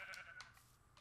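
A Minecraft sheep gives a quick, close bleat, a wavering nasal cry with a couple of short pulses, heard alone within a single second.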